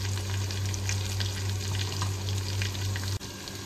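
Meat is stirred and fried in a spice mixture for Libyan mbakbaka pasta, giving a dense, continuous frying hiss with faint stirring and a low steady hum that cuts out abruptly near the end.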